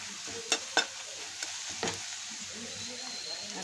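A utensil scrapes and clinks around a pan of pithala batter a few times over a soft, steady sizzle.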